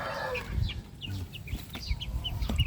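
Bulik gamecocks, young growing roosters with straight combs, cluck in short bursts outdoors, with soft chirps and scratchy movement around them and a couple of brief sharper calls.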